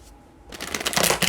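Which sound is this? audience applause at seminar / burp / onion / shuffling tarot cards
shuffling tarot cards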